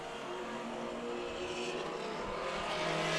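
Mini stock race cars lapping Stockton 99 Speedway in Northern California, a continuous roar of engines that builds in loudness toward the end, heard from trackside without talk.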